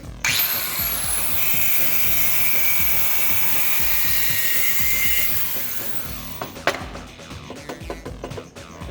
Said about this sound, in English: So time to start cutting.